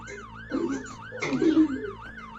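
A police car siren in the Roblox game Brookhaven wails in a steady repeating up-and-down pattern, fairly close and clear, with brief bits of game noise layered over it.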